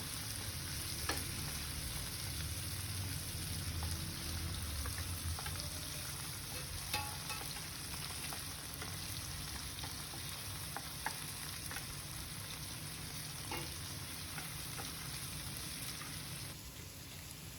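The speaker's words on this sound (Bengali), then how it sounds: "পেঁয়াজ ভাজা হয়ে গেছে, এর মধ্যে দিয়ে দিচ্ছি কুচিয়ে রাখা টমেটোগুলো" Chopped tomatoes hit onions already fried in a pan for pomfret curry, sizzling steadily and close without pause, with occasional stirring scrapes.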